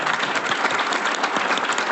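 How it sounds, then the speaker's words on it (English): A conference audience at an industry day event gives a big round of applause, a dense, even wash of many hands clapping throughout. "let's give Wayne a big round of applause to the board"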